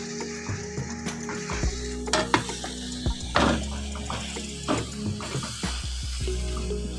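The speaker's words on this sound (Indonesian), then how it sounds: "kita tumis sampai agak layu" Dried kaffir lime leaves and spices are sautéed in a pan for beef serundeng, sizzling steadily up close, with scattered spatula scrapes and taps and a low background hum.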